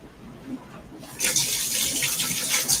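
Water runs from a household tap while something is being rinsed during house cleaning, starting partway in as a steady near splashing gush after a quiet start.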